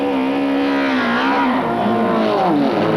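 Several 1995 French Supertouring cars pull away together onto the warm-up lap at Paul Ricard, engines droning loudly and continuously as multiple revving notes rise and overlap close by.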